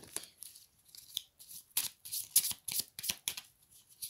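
Oracle cards are shuffled and drawn by hand, a rapid series of crisp riffling and sliding flicks close to the microphone with no talk.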